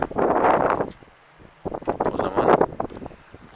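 Strong wind buffets the microphone in two heavy gusts, a roaring rush separated by a brief lull.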